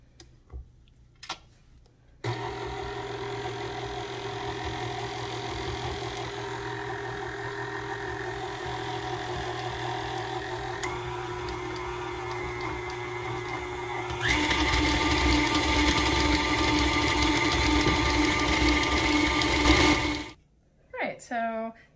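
An electric mixer whirs steadily through peanut butter, M&M and chocolate chip bar batter, starting abruptly, running as a sustained hum with a ticking rattle, then speeding up louder before stopping.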